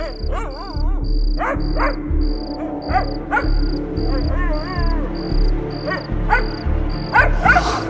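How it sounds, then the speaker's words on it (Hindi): A Pomeranian dog barks in repeated short yaps at night, loud and near, over a steady chirping of crickets with a regular pulsing insect tone. "ये पॉमी ही भौंक रहा था"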